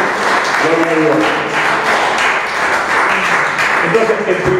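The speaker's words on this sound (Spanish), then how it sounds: "Denle un aplauso fuerte al Señor." A church congregation applauds loudly for several seconds, a dense, even wash of clapping with voices calling out over it.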